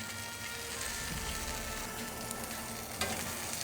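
Steak searing in a vintage cast iron pan gives a loud, dense, continuous sizzle up close, with a couple of brief crackling pops and no talk.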